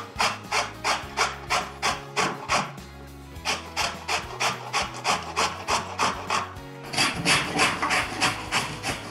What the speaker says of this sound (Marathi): साल काढून घेतली की कैरी आपण छान किसून घेणार आहोत.